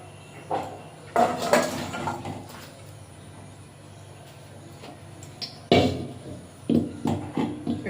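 A ladle scooping light koi fish curry out of a cooking pot, with clinks and scrapes of metal against the pot coming in irregular bursts, close and fairly quiet, no talking.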